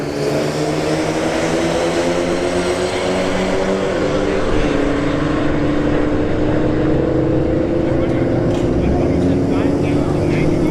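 A Volkswagen Golf and a Hyundai Elantra N drag race at a motorsports park, their engines a loud sustained roar with rising tonal drones as they accelerate down the strip, heard from a distance with a voice over it.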